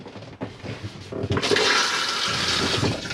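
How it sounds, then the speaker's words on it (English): A cassette toilet in a Bessacarr 572 motorhome flushes with a loud rushing gush of water that swells after a brief clunk and keeps pouring steadily, close by with no talk. "spray the bowl, then give it a good flush"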